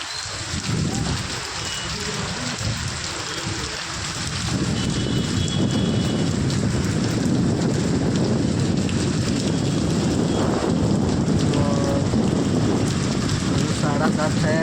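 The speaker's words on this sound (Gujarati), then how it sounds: "વરસાદ ચાલુ થઈ ગયો" Heavy monsoon rain in a Gujarat village pours down in a dense, constant roar that grows louder after a few seconds, with faint voices underneath.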